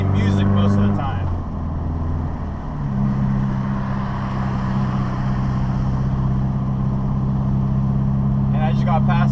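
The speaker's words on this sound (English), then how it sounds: "driving the S2000, you get a lot of attention wherever you go, especially with my car having a loud exhaust." Honda S2000 fitted with a loud aftermarket exhaust, heard from inside while driving: a steady, droning engine and exhaust note that holds throughout, with a shift in pitch early on.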